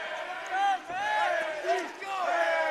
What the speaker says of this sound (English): Now the chants are going the other way.